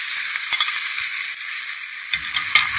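Cowpeas and green chillies frying in a pan, a steady close sizzle with a few soft stirring knocks near the end, no voices.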